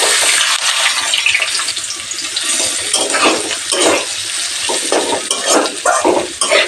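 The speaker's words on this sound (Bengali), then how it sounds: "ভাজা আলু আর কাঁকরোল অ্যাড করে দিচ্ছি" Fried potatoes and pointed gourd tossed into a hot frying pan with black cumin, then stirred, giving a steady close sizzle with scraping stir strokes throughout and no talking.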